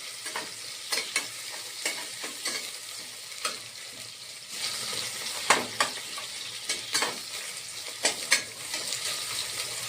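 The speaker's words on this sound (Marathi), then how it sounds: "आता कांदा ना चांगला आपण तळून घेऊया." Onion fries in hot oil in a pan for khichdi, giving a bright hissing sizzle with a series of quick spatula scrapes and taps as it is stirred, near and moderately loud, with no speech.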